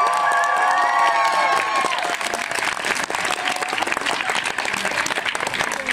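A carnival crowd at a Masopust celebration in Nová Paka claps and cheers loudly to vote for a costumed entrant, with a few shouts rising early before dense, sustained clapping fills the rest.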